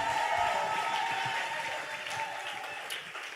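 A church congregation applauds in praise of the Lord Jesus. The clapping is dense and steady and fills the room evenly from start to finish, with no speech over it.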